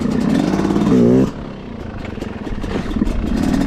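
A dirt bike engine putters at low RPM during a slow wheelie, a brief louder rev early on, then a low, uneven idle chug.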